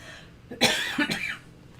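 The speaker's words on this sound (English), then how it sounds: "Boy, I have a cough." A person coughs close by, two harsh bursts in quick succession followed by a short raspy tail.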